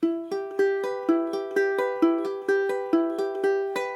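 Ukulele notes plucked one at a time in a steady, even rhythm, bright and close, each note ringing briefly before the next with no talking.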